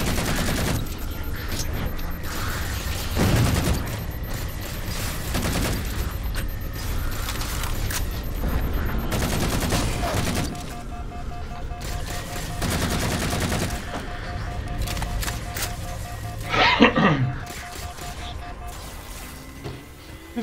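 Sustained gunfire in the video game Halo 4, with dense rapid bursts and mechanical clatter continuing for most of the stretch, a brief crash near the end, and game effects layered throughout.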